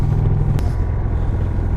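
A 2020 Indian Chief Vintage motorcycle engine pulls hard with a loud, close, steady low rumble, broken by one brief sharp click partway through.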